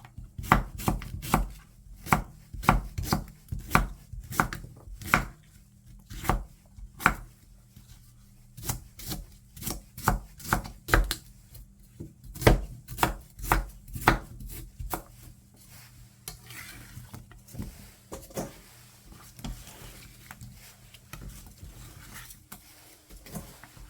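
Rapid, steady knife chops slicing Cheongyang chili peppers on a cutting board, sharp rhythmic taps close by, slowing and softening toward the end.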